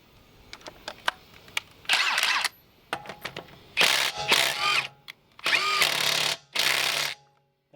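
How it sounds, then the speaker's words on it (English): A Ridgid Octane cordless drill fitted with a 3-amp battery works a truck lug nut loose, giving several loud close bursts of whirring and rattling impact between short trigger taps and pauses. "let's see if we can take off a lug nut or if it can loosen up a lug nut"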